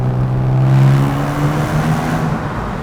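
A Porsche 911 997.1 Carrera S with a switchable sports exhaust idles in a deep, steady rumble, loud and close, holding a low even drone throughout.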